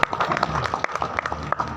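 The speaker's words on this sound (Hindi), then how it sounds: "ताली बजाओ शंकर भट्ट" An audience claps together for Shankar Bhatt at a gathering, a close burst of many hands with sharp, irregular slaps throughout, no voices over it.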